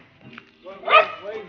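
A dog at a housing estate in Abuja gives a short, fairly faint bark or yelp, with a voice talking nearby.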